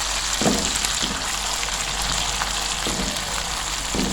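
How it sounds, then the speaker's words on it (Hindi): Tomato masala with turmeric for sarson ka saag fries in a covered pan, giving a steady close sizzle with occasional soft stirring thumps, no voices. "ये लें जी, मसाला हमारा बहुत अच्छे से भुन चुका है"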